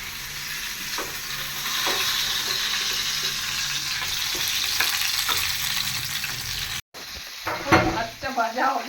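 Rice frying in a pan in a home kitchen, a steady close sizzle running for several seconds with small stirring clicks, then a brief break and louder scraping stirs near the end.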